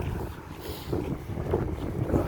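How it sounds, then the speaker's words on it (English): Strong gusting wind buffets the microphone in a steady low roar, with no voices. "It's just like really windy."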